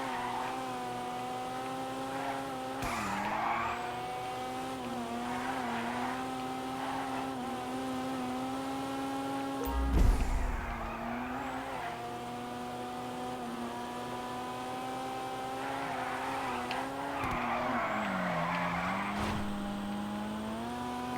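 A stanced Dinka Jester Classic, the game's Toyota Supra, drifts in a video game with its engine droning at steady revs, tires squealing in long wavering skids and a sharp knock midway, no talking.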